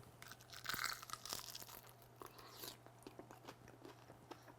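Crisp bites into pellet-grilled chicken wings fried in beef tallow give a few sharp crunches, then softer chewing and crackling, all close and fairly quiet.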